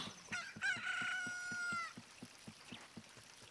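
A rooster from the Zelda Ocarina of Time video game crows once at dawn, a loud drawn-out cry over a steady ticking rhythm of game music, with no talking.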